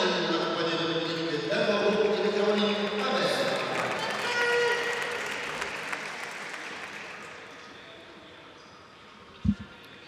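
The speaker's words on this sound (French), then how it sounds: "Et on applaudit bien fort parce qu'on est ravis de le voir ici." Indoor crowd applauding at a French indoor archery championship during the men's recurve gold match, sustained dense clapping that gradually thins out, with an announcer's voice at the start and a sharp thump near the end.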